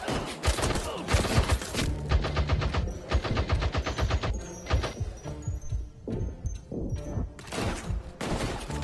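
Lewis gun machine gun in the Peaky Blinders VR video game fires long, loud rapid bursts close up, with brief pauses between strings of shots throughout.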